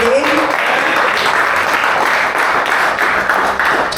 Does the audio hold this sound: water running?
no